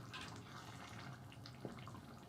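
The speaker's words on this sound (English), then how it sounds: "We'll add some water to it and we mix." Water added to 28 ounces of canned crushed tomatoes for a cheesy lasagna sauce and stirred, a faint, steady trickling and swishing with one soft knock partway through.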